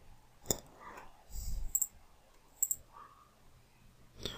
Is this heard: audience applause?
no